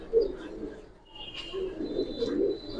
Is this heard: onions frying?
no